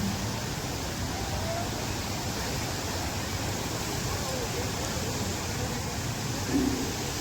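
A powerful, steady roar of water rushing through ten open gates of Yeldari Dam on the Purna River fills the scene, even and continuous, with only faint traces of voices in the background.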